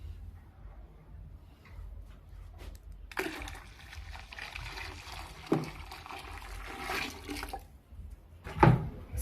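Water is poured into a batch of homemade fabric softener, a rushing, splashing stream that rises after a quiet start and carries on with sloshing and a brief clunk near the end.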